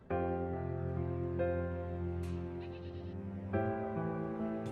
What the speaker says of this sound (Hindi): बकरा लेना तो देख लें